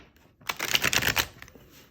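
Tarot cards riffled and shuffled by hand in a burst of dense, papery flutters lasting under a second, close and fairly loud, then settling to quiet.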